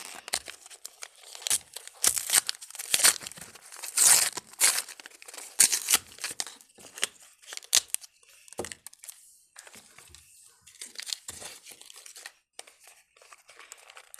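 Crinkling and tearing of a blue plastic package being ripped open by hand, close and in bursts with short pauses, louder rips early and softer rustling toward the end, no talking.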